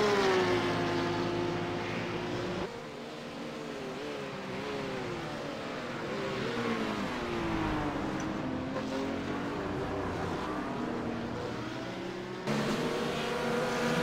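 Several race cars battle closely for position at Suzuka during a 1000 km endurance race, engines droning and revving together with shifting, sweeping pitch as they jostle nearby, loud and continuous throughout.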